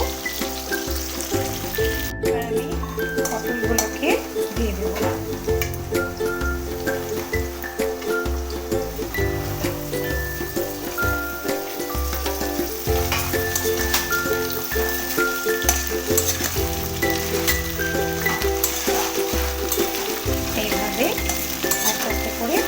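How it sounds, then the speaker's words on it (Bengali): Potatoes fry in hot oil for a tangra fish curry, with a steady close sizzle and occasional stirring scrapes running throughout under background music. "এখন আমি ভালো করে ভেজে নেব আলু পটল আগে আলুগুলোকে ভেজে নেব"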